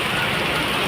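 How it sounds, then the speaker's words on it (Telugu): Hailstones pour down during an evening hailstorm in Tenali, a dense, steady hiss and patter of ice striking surfaces without a break. "సౌండ్ అయితే చాలా పెద్ద పెద్దగా వస్తుంది. కింద పడేసరికి ఇంత వచ్చేసి ఇవి వడగళ్ళు అన్నమాట."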